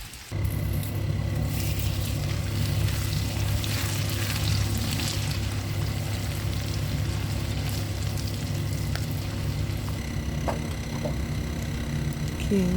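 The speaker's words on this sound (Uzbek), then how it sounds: "Yog'ni qizitib, bir dona piyozimizni solib qovuramiz." An onion frying in hot oil in a pan, sizzling steadily and loudly up close with a dense, even crackle that runs almost the whole time after a sudden start, with a low hum beneath it.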